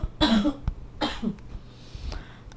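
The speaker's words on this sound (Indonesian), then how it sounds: "Sorry, masih batuk." Two harsh coughs in quick succession close to the microphone, followed by a softer third cough, otherwise quiet.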